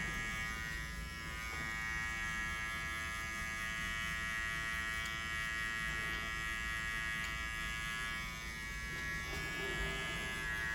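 Electric hair clippers buzz steadily and close while blending a low taper fade, a continuous droning hum with faint changes as the blade works through the hair.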